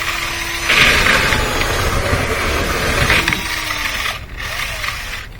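A Lint Eater rotary brush spins inside a dryer vent, giving a steady, fairly loud mechanical whir with scraping rattles that fades slightly near the end.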